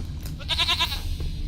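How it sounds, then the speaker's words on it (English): A goat in the Witcher 3: Wild Hunt bleats once, a near, wavering nasal cry lasting about half a second over quiet game ambience. "Here, goat."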